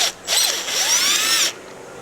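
A power driver whirs in two bursts, backing Phillips screws out of a Chevrolet Silverado brake light housing, its pitch rising steadily as each screw spins free, close and loud with short pauses between.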